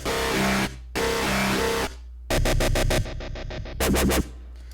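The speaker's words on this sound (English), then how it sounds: "I also just incorporated some of those wobble synths that I had before" Loud electronic wobble synths throb in bursts, followed by rapid choppy stutters and echoing repeats, dense and harsh with bass underneath.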